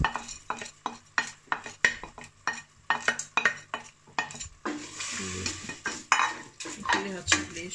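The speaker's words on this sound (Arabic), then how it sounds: "وغادي نزيد العدس ديالي" Lentils tumbling into a home cooking pot amid a run of sharp metallic clinks and stirring knocks, followed by a steadier rush of pouring and simmering, close and moderately loud with no talking.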